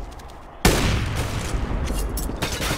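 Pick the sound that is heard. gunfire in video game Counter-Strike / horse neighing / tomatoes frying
gunfire in video game Counter-Strike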